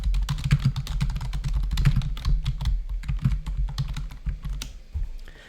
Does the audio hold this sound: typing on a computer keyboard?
yes